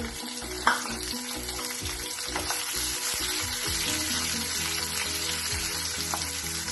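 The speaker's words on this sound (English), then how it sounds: "As the jeera sizzle, we are going to add 1/4 cup of peas or finely chopped capsicum" Cumin seeds and finely chopped capsicum sizzle in a hot pan of oil, a steady close hiss with a few brief crackles and pops, no voices.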